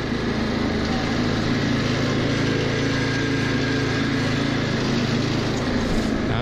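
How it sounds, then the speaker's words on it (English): A Honda engine on a vintage lawn tractor runs at a steady, even drone throughout, close and constant with no change in pitch and no talking over it. "How many pulls do you think she'll take? One? Oh yeah. It's a Honda. She runs real good."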